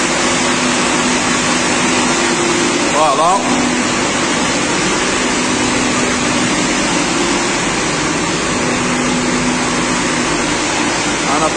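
A 47 kW progressive-start electric pump motor in a sprinkler fire station starts up to a loud, steady broadband hum filling the room, while someone speaks over it.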